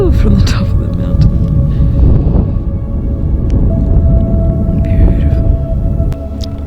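Climbers cry out faintly from the top of a distant mountain in Canyonlands near Moab, far-off voices rising over a steady outdoor wind rumble.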